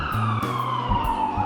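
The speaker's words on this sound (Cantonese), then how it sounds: "經常都係有呢個救護車、警車，乜嘢都有。" An ambulance and police car sirens on a busy New York street give a steady, loud wailing tone over a low traffic rumble, heard briefly and without voices.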